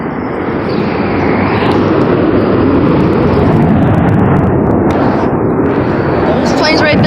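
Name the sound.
rumble of Blue Angels jets at an air show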